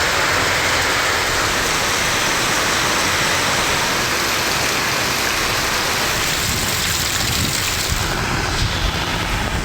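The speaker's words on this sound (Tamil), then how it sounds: "கனமழை கொட்டி தீர்த்தது" Heavy rain pours down in the Chengam area of Tiruvannamalai district, Tamil Nadu, as a loud, dense, unbroken roar of water close by, with no voices.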